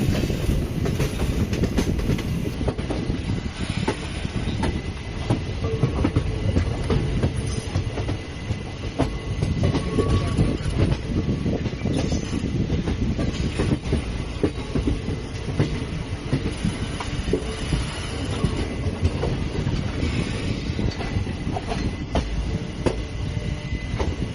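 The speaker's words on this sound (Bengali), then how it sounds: "বর্ধমান কট লাইন ট্রেন এবারে শিয়ালদা লাইন থেকে হাওড়া বর্ধমান কট লাইনে শিফট হচ্ছে আশা করছি এরপরে গতিটা তুলবে" The Kanchenjunga Express running on the Howrah–Bardhaman chord line, heard from on board as a steady, loud rumble with continuous wheel clatter throughout and no voices.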